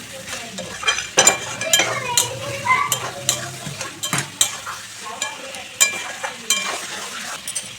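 Chicken curry with capsicum and slit green chillies stir-fried dry in a pan, a spatula scraping and clanking against the metal in irregular strokes over a low steady sizzle, close and moderately loud.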